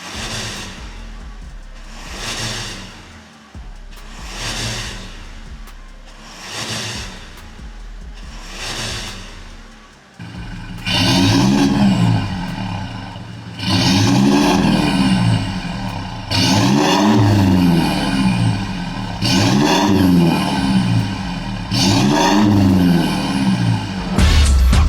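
Toyota Hilux fitted with a full exhaust, Spitfire Thunder muffler and Borla dual black tips, revving repeatedly: five rising-and-falling blips, then a louder, deeper series of hard revs with throaty exhaust rumble, close by.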